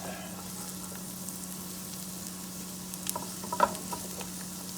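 Garlic and onion frying in a pan for a shepherd's pie, a steady low sizzle with a few soft scraping stirs near the end, no voices.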